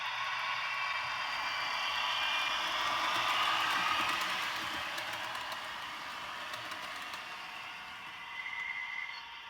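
HO scale Märklin and ROCO Northlander model train set backing down a small home layout track, a steady faint whirring hum with light rail clatter, continuous and close throughout.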